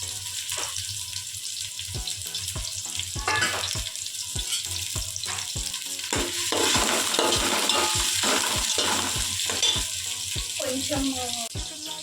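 Thinly sliced onions fry in ghee and oil for chicken pulao, a steady close sizzle broken by regular scraping stirs of a spoon against the pan, getting louder partway through; no talking.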